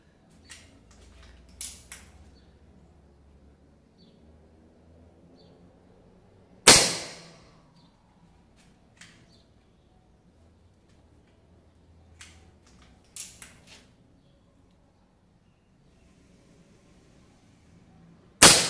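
A PCP Samyang Dragon Recluse .357 (9mm) air rifle fires standing, unsupported: two sharp loud cracks several seconds apart, with fainter ticks and clicks between them outdoors.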